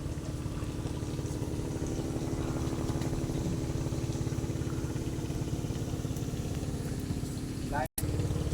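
A motorcycle engine idles close by with a steady low chugging rumble at moderate volume, holding even for the whole stretch apart from one very brief dropout near the end.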